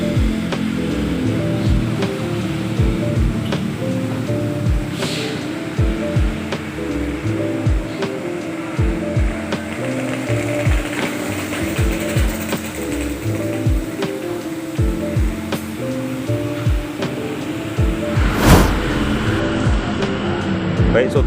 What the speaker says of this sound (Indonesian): itu kendaraan kita sudah mulai dicuci